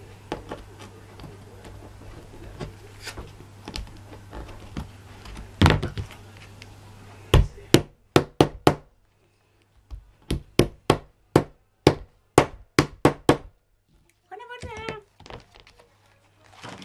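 A hammer taps while a small suitcase is being built: faint workshop handling at first, then a run of sharp, evenly spaced strikes close by, with a brief soft voice near the end.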